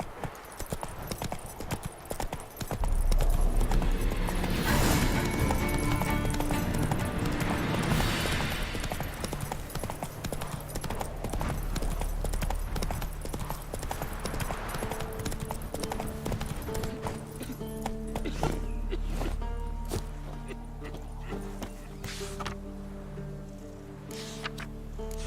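Roach the horse gallops in The Witcher 3 video game, hooves beating a fast, steady clip-clop that starts loud a few seconds in and continues throughout, with a brief whinny and faint background music.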